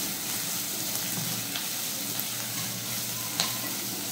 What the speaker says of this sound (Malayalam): സവാള നന്നായിട്ട് വഴറ്റിയെടുക്കണം കേട്ടോ